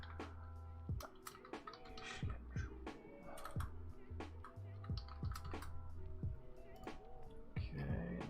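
Someone types on a computer keyboard, with quick irregular clicks and clacks in a steady busy patter, close and fairly quiet, over a low background hum.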